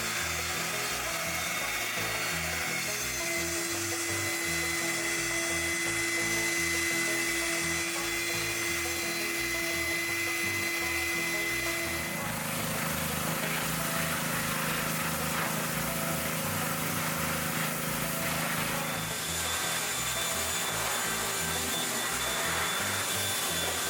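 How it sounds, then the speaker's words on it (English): A shop vac runs continuously, a loud, steady motor whine and suction rush with one shift in pitch partway through, heard while cleaning out rodent mess. "let me get the shop vac"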